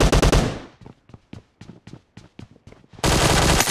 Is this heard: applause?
no